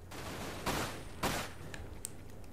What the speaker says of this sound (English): Oh my god, I'm getting shot up like crazy